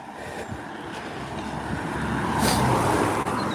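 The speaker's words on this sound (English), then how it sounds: "now we've got a car coming" A car approaches and passes along a road during an outdoor dog walk, its broadband road noise swelling steadily and peaking near the end, with no talk.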